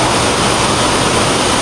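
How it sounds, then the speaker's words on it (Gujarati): Heavy rain pours onto a highway at night in a steady, dense hiss of water with no gaps and no voices. "આ મિત્રો વરસાદ જોરદાર ખતરનાક પડ્યો"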